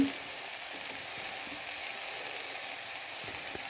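Capsicum, carrot, papaya and potato fry with ginger and cumin in a pan, giving a steady, close sizzle throughout with a few faint stirring knocks.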